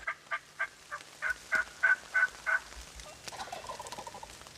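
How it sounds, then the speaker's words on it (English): A wild turkey gobbles in a fast run of about eight rattling notes, fairly distant, followed by quieter outdoor noise. "We finally hear the bird gobble."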